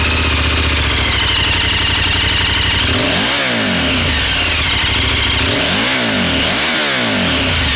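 A KTM 1290 Super Adventure S with an Akrapovic slip-on exhaust idles loudly close by and is then revved hard three times, each rise and fall sweeping sharply through a throaty exhaust note. No voices.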